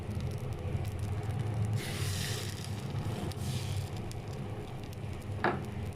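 Chitoi pitha batter sizzles in a covered pan on a gas stove, a steady soft crackle with faint spattering and one brief sharp tick, no talking.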